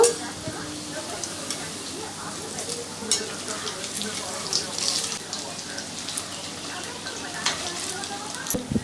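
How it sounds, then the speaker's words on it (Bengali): Semolina snacks frying in hot oil on a medium gas flame, a steady close sizzle with scattered crackling pops, no voices. "গ্যাসটাকে মিডিয়াম টুতে রেখে এপিট উপিট করে লাল লাল করে ভেজে নিতে হবে।"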